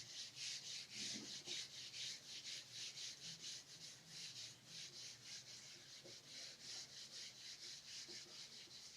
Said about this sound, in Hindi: रब कर रहा हूं मैं इसको।